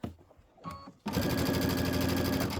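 A sewing machine stitches quilt pieces for a Kimberbell Enchanted Winter quilt top: brief fabric handling, then the motor starts and runs in a loud, steady, fast whir close by.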